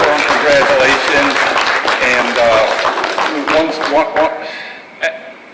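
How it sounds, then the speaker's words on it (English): Applause rises at a school board of education meeting, a burst of clapping from the audience that fades out over several seconds, mixed with voices. "So a little round of applause for him, congratulations"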